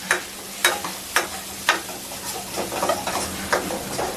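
Curry leaves dropped into hot oil for a tempering of coconut and garlic give a close, crackling sizzle, punctuated by several sharp clinks of a spoon against the pan at a loose, uneven rhythm.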